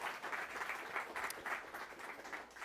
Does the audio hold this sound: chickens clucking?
no